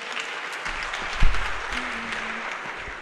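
Audience clapping in a lecture hall, an even spread of hands applauding with a brief low thump partway through and a faint hum beneath.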